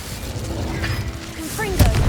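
Fire spell cast in the video game Hogwarts Legacy on PlayStation 5: a brief magical whoosh and crackle over low rumbling game ambience, followed near the end by a sharper burst with a rising tonal sweep.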